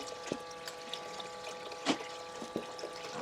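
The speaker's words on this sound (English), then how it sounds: "we're just gonna throw spoonfuls of water." Faint, sparse splashes of spoonfuls of water thrown onto dirt land one at a time at irregular intervals over a quiet background hum.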